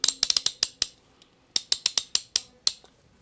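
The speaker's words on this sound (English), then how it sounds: "This is an SK ratchet." A vintage 1950s SK ratchet clicks in quick bursts of sharp metallic pawl clicks, one cluster, a brief pause, then another run, close up and alone.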